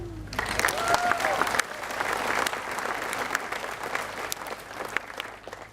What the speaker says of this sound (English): A big cheer for them all.